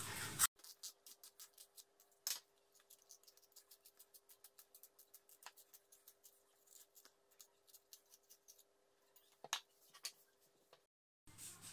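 A knife peels a fruit for a pastry dessert with rabottes, a long run of soft, rapid scraping ticks in an irregular rhythm, close and quiet, with no talking.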